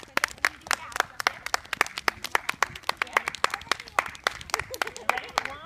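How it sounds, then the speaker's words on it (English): Live audience claps in a lively, irregular burst of sharp, close hand claps that carries on steadily throughout, with a few voices mixed in. "Can we clap for them?"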